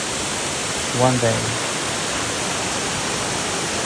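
A waterfall on Mt Shasta roars as a constant, broad hiss of falling water, loud and unbroken throughout, with a brief spoken phrase heard over it early on.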